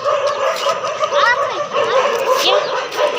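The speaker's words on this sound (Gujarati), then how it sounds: "બે કૂતરાની ફાઇટ થઈ" Dogs yipping and whining in a tense scuffle, sharp cries rising and falling over a steady noisy background, fairly close.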